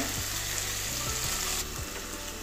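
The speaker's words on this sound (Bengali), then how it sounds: "এভাবে মাছগুলো কিছুক্ষণ কষাবো" Pieces of katla fish sizzle loudly as they are stir-fried in a pan, with a steady hiss and repeated soft knocks of a spatula against the pan, close up and with no speech.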